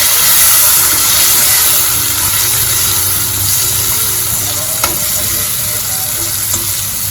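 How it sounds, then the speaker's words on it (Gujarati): Washed potatoes sautéing in a pan with a cooked spice paste, a loud, continuous close sizzle of hot oil with occasional faint stirring scrapes. "બટેટાને આપણે પાંચ મિનિટ સુધી સાતળવા દેવાના છે"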